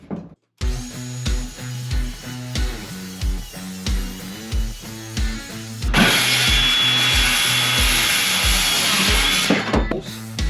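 A saw cutting through wooden storage shelves, rhythmic back-and-forth strokes close and loud for several seconds, then switching to a continuous harsher grinding cut, with no talking.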